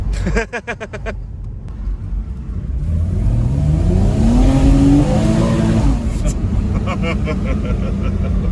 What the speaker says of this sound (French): Alors là, t'as plus rien et ça burne.